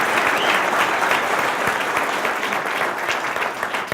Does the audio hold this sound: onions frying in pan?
no